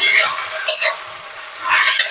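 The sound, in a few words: bottle gourd leaves frying and stirred in pan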